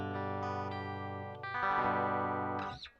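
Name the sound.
guitar through Jazz Chorus amp with built-in chorus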